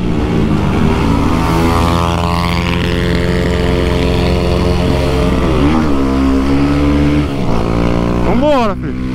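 A Honda Start 160 motorcycle fitted with a Dore exhaust revs hard in second gear, a loud, close, sustained engine drone that climbs and dips in pitch, ending with a quick rising rev.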